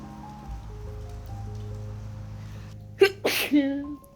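A sharp, close sneeze erupts near the end after a few seconds of quiet humming background tone.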